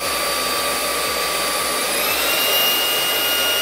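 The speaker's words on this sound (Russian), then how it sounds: "У пылесоса для сухой уборки уровень шума сравнительно низкий – от 69 до 72 дБ, в зависимости от выбранного режима." A Karingbee M5 wet-dry vacuum cleaner runs close and loud, giving a steady, even motor whine and airflow roar with no pauses and no voices.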